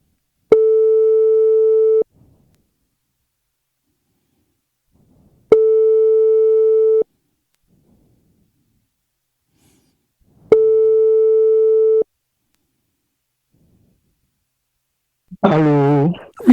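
Outgoing telephone ringback tone while a French-language radio show calls its guest: three long, steady electronic tones at even intervals with silence between, followed by a brief voice answering at the end.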